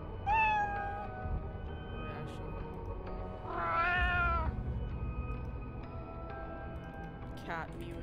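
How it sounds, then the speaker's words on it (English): Cat mews ring out in the game Doors, a short meow near the start and a longer, louder wavering one in the middle, set over steady low background noise, with a brief squeak near the end. "Cat mewing."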